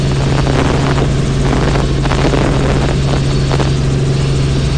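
Helicopter flying over Key West, a loud continuous rotor and engine drone with a steady low hum, heard from inside the cabin with no talking.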